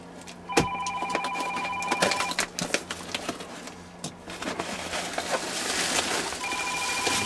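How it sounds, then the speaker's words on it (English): A telephone rings in repeated bursts with a clear electronic tone, two ring sequences separated by a pause, moderately loud over a busy room background with clatter and faint noise. "There's that phone ringing."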